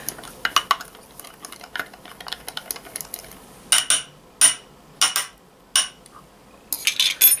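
A batch of Swizzle Malarkey mixed by hand in a bowl, with repeated bursts of scraping, clinking stirs, brisk and close, coming in irregular strokes with short pauses between them and no talking.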